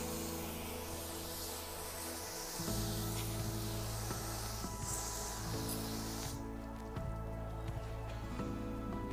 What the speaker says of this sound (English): the last step is to use the hose to rinse the Part 2 cleaner off of the wood